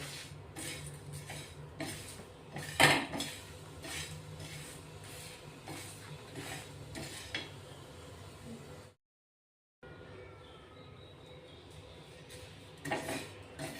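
A spoon scrapes and clinks as dry roasted masala is scooped out of a pan, making repeated scraping and tapping sounds close by, with one louder clatter and a brief gap of silence before quieter scraping resumes.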